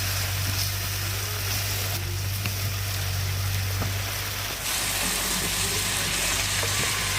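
Red lentils sautéed with chopped vegetables in a pan, a steady close sizzle like light rain that brightens and thickens partway through, with occasional small clicks and no talking.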